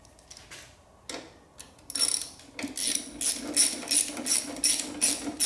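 A ratchet wrench tightening bolts on the battery box of a Kawasaki Z1A motorcycle, its sharp repeated clicks arriving in close, loud bursts that quicken toward the end, with a few scattered metallic knocks before the steady ratcheting starts.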